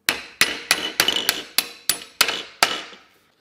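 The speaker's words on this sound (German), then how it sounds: "können wir hier mit unserem Durchschlag hingehen und können den Bolzen rausschlagen" Nine sharp metallic hammer blows drive a steel drift punch against a retaining pin on a motorcycle brake lever fixture, struck in a steady, slightly uneven rhythm, close and loud, each strike ringing briefly before the next.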